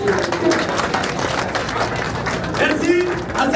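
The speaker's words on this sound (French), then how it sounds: "On applaudit très fort." Guests at a civil wedding ceremony in Conakry applaud loudly, a steady wash of clapping with voices and chatter mixed in throughout.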